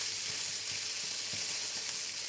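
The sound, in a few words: noodles sizzling in a pan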